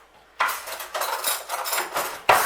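A metal teaspoon scrapes and clinks against a bowl and a mini muffin tin lined with small paper patty pan cases while batter is spooned in, making continuous close scraping strokes and light taps.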